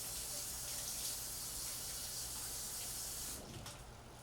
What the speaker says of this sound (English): next we're gonna wash the fruits a little bit here